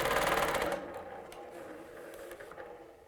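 A quilting machine stitches a paisley design with thick 30 weight thread, running in a fast, steady whirring hum for under a second before stopping, followed by faint ticks and soft handling sounds.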